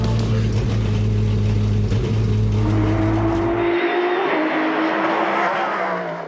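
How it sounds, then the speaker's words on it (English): A naturally aspirated 5.5-litre V8 in a Cadillac race car revs loud and close, a rising engine scream that cuts off abruptly partway through, leaving a fading higher whine. "We utilized the uniqueness of the naturally aspirated V8 to really help build upon the Aural experience of what someone watching the race would really feel"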